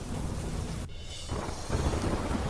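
Heavy monsoon rain pours steadily during a storm around Vadodara, with rumbling thunder rolling through it; the downpour drops out briefly near the middle before returning just as loud.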